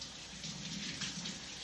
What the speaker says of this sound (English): I'm gonna wash this asparagus real quick